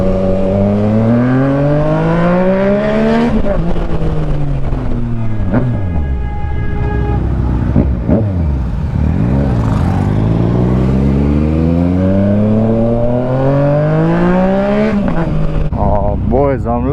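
A moped engine drones steadily while riding, its pitch rising and falling as it speeds up and shifts down, with wind noise throughout.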